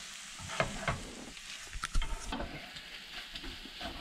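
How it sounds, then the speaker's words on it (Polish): Eggs sizzle and crackle in a hot pan on a small gas camping stove inside a caravan, a soft steady fry punctuated by occasional scrapes and clinks, with no one speaking. "Na wszystko ładnie się smaży."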